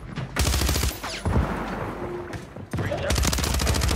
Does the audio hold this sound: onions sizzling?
no